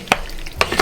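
Meat stirred in a pan with Worcester sauce for a Lancashire hotpot, two quick close scraping strokes over a low sizzle.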